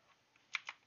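Two quick, quiet keystrokes on a computer keyboard while typing into Windows search, close and soft, with no other sound.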